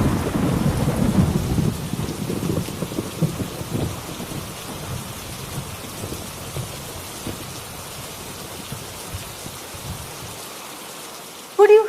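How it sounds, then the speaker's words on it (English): Rain arriving in a thunderstorm: a heavy low rumble of thunder rolls in at the start, then steady rain patters continuously and fades toward the end, followed by a brief sharp sound. "Could you hear the sound of the arrival of the rain?"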